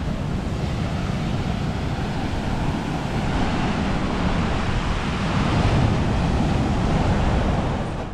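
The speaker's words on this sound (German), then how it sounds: "Ihr seht selbst die Wellen." Ocean waves surge and break steadily on a beach in Tayrona National Park, Colombia, a continuous loud roar with some wind buffeting the microphone, no voices.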